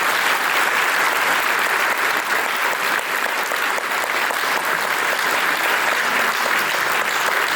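A crowd claps steadily and loudly after a poem recital, a dense continuous wash of applause with no talk over it.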